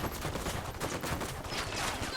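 Sniper gunfire in the Ghost Recon Wildlands video game comes as a dense, loud burst of shots throughout, with voices talking over the firing.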